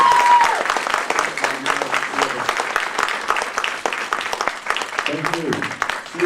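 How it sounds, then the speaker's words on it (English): An audience at a fan convention panel for an actor applauds in a sustained burst of clapping, with voices talking over and between the claps toward the end. "Can I give a round of applause for Steve Beaver?"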